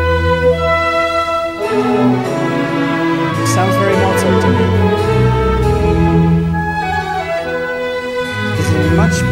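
Mozart's orchestration of Handel's Messiah, with added wind instruments in a larger orchestra, plays as full, sustained orchestral music with swelling chords and clear melodic lines throughout.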